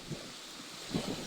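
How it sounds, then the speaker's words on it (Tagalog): Strong wind buffets the microphone while waves wash in the background, with brief gusty swells. "Sobrang lakas ng hangin and yung alon, lumalaki na naman."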